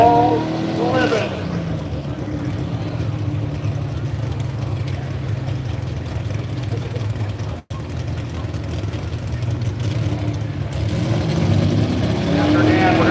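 A 4x4 pulling truck named Living runs its pull at an outdoor 6,200-pound class truck pull, its engine roaring steadily and loud for several seconds, with a brief cut, and talk heard in the background.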